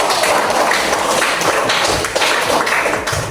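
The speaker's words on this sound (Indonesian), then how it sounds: "Beri tepuk tangan untuk kelompok 1." A classroom audience claps steadily for a student group during a school teaching session, dense and fairly loud throughout, with no talking over it.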